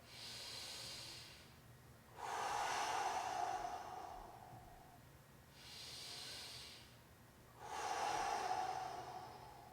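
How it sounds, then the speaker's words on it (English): Deep, slow breathing during a yoga session: two long inhales and exhales, each a broad airy rush, close and clear with no talking. "big inhale, big exhale. 3 good breaths."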